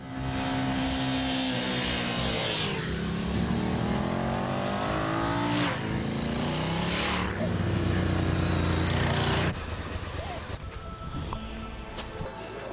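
A Bimota motorcycle engine revving at the factory as the throttle is twisted: several loud, close rising sweeps of engine pitch in succession, ending in a rougher, steady roar.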